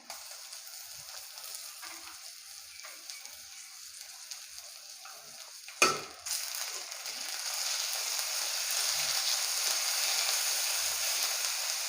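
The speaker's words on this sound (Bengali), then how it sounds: "রসুনটাকে আমি কিছুক্ষণ এভাবে নেড়ে চেড়ে দেব, যাতে রসুনের যে কাঁচা ফ্লেভারটা আছে ওটা চলে যায়" Garlic paste is dropped into a pan of fried onions, giving a sudden loud hiss that settles into a steady, brighter sizzle while it is stirred. Crackling frying continues near and constant to the end.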